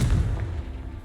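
A Confringo blasting spell bursts in the Hogwarts Legacy video game, a deep booming explosion with a heavy low rumble that hits at once and slowly fades over about a second, with no talk over it.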